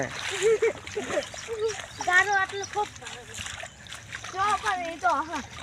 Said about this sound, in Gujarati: પાણી ઉડાડે છે